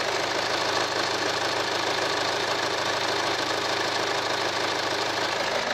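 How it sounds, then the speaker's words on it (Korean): A Kia Sorento R TLX Premium SUV engine idles steadily with a constant low rumble and even mechanical chatter, recorded up close without interruption. "이제 엔진 소리 한번 들어보도록 하겠습니다."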